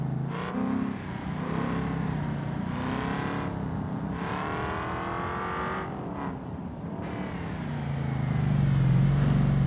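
A race car engine in the BeamNG.drive video game roars up a tarmac hill climb, revving hard and changing pitch as gears shift through corners. The engine stays loud and continuous, rising toward the end.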